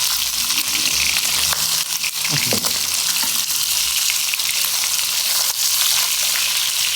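Boiled chicken fries in splattering hot oil, giving a loud, steady hiss and crackle with scattered pops, continuous and close throughout.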